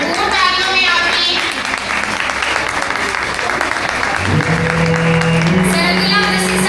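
Applause at an annual achievers and faculty prize distribution ceremony, a loud sustained clapping of a crowd filling the hall, with music or a voice rising beneath it toward the end.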